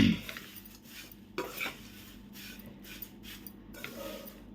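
Thin poha chivda is stirred in a pan, giving soft intermittent scraping and rustling strokes with faint clinks of a spoon against metal, close and fairly quiet.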